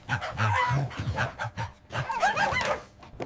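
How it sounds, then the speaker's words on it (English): A dog pants in quick, rhythmic breaths close by, with a few soft whiny vocal tones mixed in. "D is for dog"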